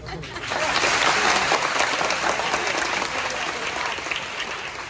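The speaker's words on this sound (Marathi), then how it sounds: "वरच्या टाळ्या कशा वाजतात बघू जरा" A crowd at a devotional gathering in Nashik claps in sustained, dense applause that swells quickly and holds steady, with a speaker's voice faintly under it.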